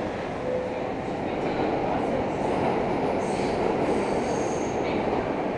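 New York subway V local train on the 6th Avenue line, heard from inside a moving car: a steady loud rumble of wheels on track with high squeals of the wheels, continuous throughout.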